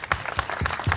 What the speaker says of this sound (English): give a huge round of applause to George personally